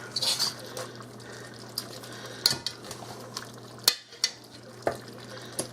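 A seasoned cooking base with roasted vegetables being mixed into an African stew, soft scraping and occasional clinks of a spoon against the pot over a low background hum, quiet and close.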